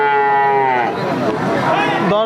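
A loud, close moo from a Friesian heifer at a cattle market holds for about two seconds, a long droning bellow that wavers and ends abruptly.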